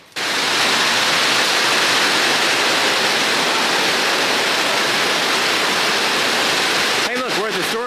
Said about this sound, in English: we're at the storage unit and it's pouring down rain again